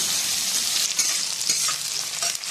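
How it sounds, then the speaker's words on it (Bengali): Chopped onion and garlic frying in oil in a pan, a dense continuous close sizzle with light stirring scrapes running through it. "পেঁয়াজ ভাজা হয়ে গেছে, দেবো টমেটো কুচি।"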